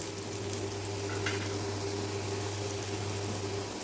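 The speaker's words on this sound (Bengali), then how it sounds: "এবার আমি ডালটা কড়াইয়ের মধ্যে দিয়ে দেবো" Dal poured into a hot kadai with fried bitter gourd, a soft continuous sizzle and bubbling at moderate distance, with a low steady hum beneath it.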